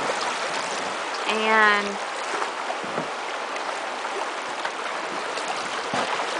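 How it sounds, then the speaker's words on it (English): A canoe paddles through a shallow rocky shoal on the Coosawatee River in Ellijay, Georgia, with steady rushing stream water throughout and a brief spoken word near the start. "We're going through a little shoal area."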